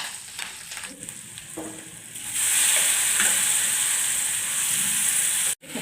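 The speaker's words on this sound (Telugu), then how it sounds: "ముక్కలన్నింటినీ ఇట్లా కలుపుకొని వేపుకోవాలండి." Beetroot and carrot pieces stir-fry in a pan with cumin, green chilli, garlic, curry leaves and turmeric, giving a soft scrape at first, then a loud, steady sizzle that carries on alone to a brief drop near the end.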